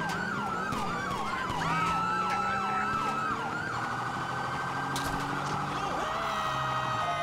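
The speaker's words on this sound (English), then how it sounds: "It's responding with the tone of the siren" A police car siren in GTA 5 runs a rapid yelp cycle, then switches to a steady wail and then to a different tone, loud and close over road noise, with no talk.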